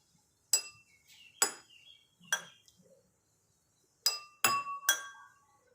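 Drinking glasses holding water mixed with yellow colour are struck one at a time, giving six clear, bright ringing tones with short decays, spaced in two groups, with no talking.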